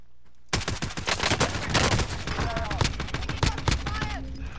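A Mac 10 submachine gun fires in a video game, rapid bursts of close, loud automatic gunfire following a brief quiet moment, with a voice reacting over the shots.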